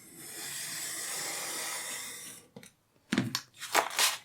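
A craft knife is drawn along a straight edge through a piece of card, first as a long steady hiss of scoring, then a pause, then a few sharp crunchy tearing strokes close up, with no voices.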